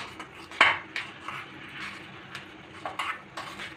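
Salt, turmeric and kasuri methi being mixed in a bowl for aloo paratha batter, giving a series of light clinks and scrapes of a spoon against the dish, spaced irregularly and fairly close, with no talking.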